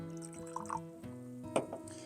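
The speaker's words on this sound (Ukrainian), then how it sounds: "Так, наливаємо." Orange soft drink poured into a glass, with faint, quiet gurgling and trickling and a few brief splashy bursts, close by.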